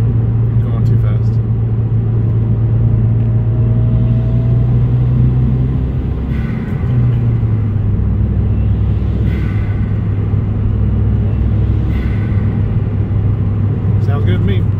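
A project car's engine runs through a pull with a stock blow-off valve and just an intake fitted, a steady loud low rumble that shifts pitch midway as it revs, continuous throughout.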